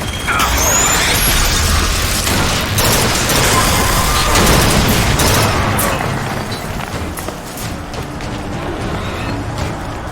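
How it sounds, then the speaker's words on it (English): Loud, dense combat from BioShock Infinite with heavy booms and rapid gunfire bursts, rocket blasts thudding throughout before the chaos eases slightly toward the end. "Watch out, rockets!"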